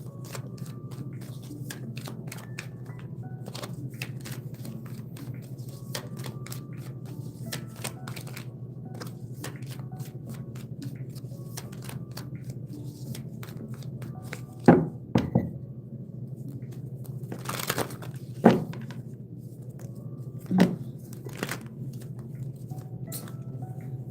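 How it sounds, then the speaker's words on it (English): Soft riffling and tapping of cards being shuffled over a low steady hum, with a few sharper slaps and knocks partway through. "I'm trying to shuffle these cards."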